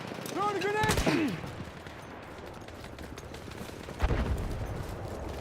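In the Battlefield video game, a grenade is thrown amid a sharp burst of gunfire, then a louder thud lands a few seconds later, over a steady background din, with a voice calling out briefly near the start.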